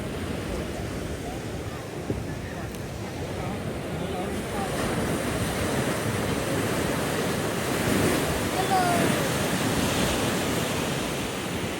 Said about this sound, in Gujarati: રોજ કેવા મસ્ત મસ્ત મોજા આવતા હોય